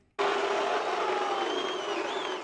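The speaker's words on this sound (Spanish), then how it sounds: "El silencio fue seguido de un estallido de abucheos que no tardaron en llenar el recinto" A bodybuilding contest audience erupts in booing at Sergio Oliva being placed eighth: after a brief hush, a loud, dense crowd roar bursts in abruptly and holds steady, filling the hall to the end.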